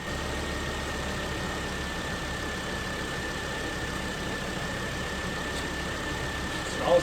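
Volvo V50 engine idling steadily on its first start at home, a low, even hum with a faint whine, close and alone until a small bump at the very end.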